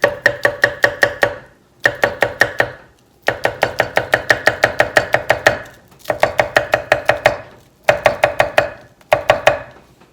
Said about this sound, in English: Ooh, the blade cuts right into the block.